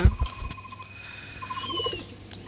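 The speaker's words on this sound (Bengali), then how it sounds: "এখানে রেসার হোমা কবুতর ওমে রয়েছে" Racing homer pigeons in a pigeon loft, where some are sitting on eggs, give soft, faint cooing calls against a low background hum.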